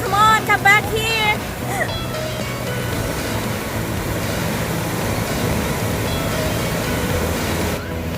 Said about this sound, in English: Look, there's a big wave coming.